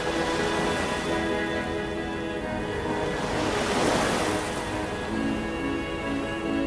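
Ocean surf rolls onto the crowded beach at Cox's Bazar, a loud, constant roar of breaking waves mixed with gusty wind buffeting the microphone.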